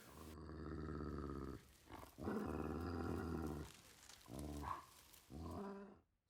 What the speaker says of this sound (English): she also has a dire wolf or dire dog or whatever this big fluffy thing is